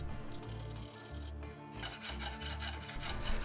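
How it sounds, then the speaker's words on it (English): Steel blade of a thick 12mm knife being hand filed along its plunge lines, a rough rasping stroke repeated in a steady back-and-forth rhythm, close and fairly loud with no talking. "I had to resort to hand filing to make them nice and even"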